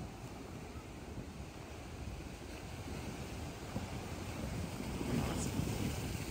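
High tide surf at Boa Viagem beach in Recife, waves pounding the shore and loose rocks; a continuous rushing roar of water with wind buffeting the microphone, swelling louder toward the end.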